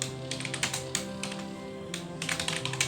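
C++ code typed on a computer keyboard makes quick, close bursts of key clicks separated by short pauses, over a faint steady hum.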